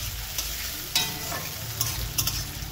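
Mixed leafy greens and onions stir-fry in a pan, a steady close sizzle with scraping stirs of a spatula now and then.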